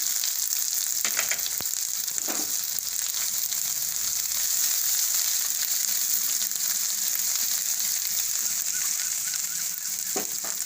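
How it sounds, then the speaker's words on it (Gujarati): Cumin seeds and fresh green turmeric sizzle steadily in hot oil over lowered gas heat, a constant loud frying hiss with occasional crackles and no talking. "ગરમ થઈ ગયું છે, તો એમાં આપણે જીરું નાખી દેવું."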